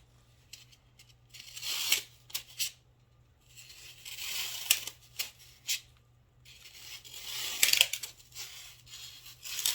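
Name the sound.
cutting craft foam for a birdhouse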